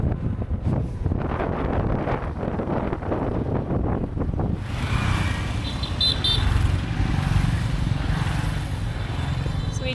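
Groups of motorbikes ride past on a mountain road on the Ha Giang Loop in Vietnam, their engines roaring by in a rough run for the first few seconds before heavy wind buffeting on the microphone takes over.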